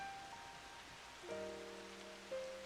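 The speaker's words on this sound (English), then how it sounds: "it's raining inside of this crystal building" Rain patters steadily inside a crystal building in the video game Final Fantasy XIV, a soft, even hiss of falling drops under sustained faint musical tones, with no speech.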